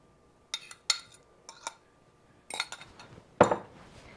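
A sweet potato casserole mixture with beaten eggs stirred in a bowl, heard as a series of sharp, close clinks and scrapes of a utensil against the bowl in irregular bursts, the loudest near the end.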